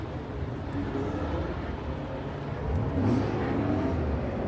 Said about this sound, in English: Go on, rev it, Ronan.